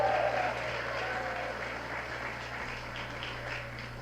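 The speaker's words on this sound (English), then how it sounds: "I want to give them and all these organizations who work to prevent and treat HIV a big round of applause" A crowd at a presidential Gay Pride speech applauds HIV prevention and treatment organizations including GMHC, the clapping a steady, moderately distant wash over a low background hum.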